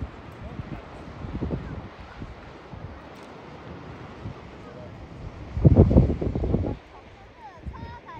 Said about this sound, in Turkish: Denizin sesine bak adam.